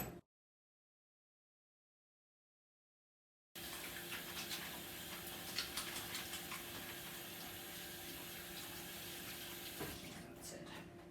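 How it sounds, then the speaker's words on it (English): Hands being washed under a running kitchen tap: after a short silence, a steady close rush of water starts and continues, with faint handling noises, until it fades near the end. "and wash my hands."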